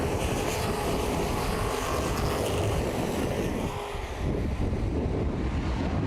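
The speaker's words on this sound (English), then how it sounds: "Green flag racing here at Columbus" Modified race cars roar around Columbus Motor Speedway at the start of a 50-lap race, a loud, continuous blend of engines with wind buffeting, heard from a distance with no talk.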